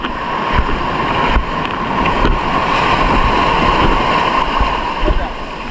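Ocean waves wash against the shore during ultralight casting from the water's edge, a loud continuous surf roar with wind buffeting the microphone and occasional thumps.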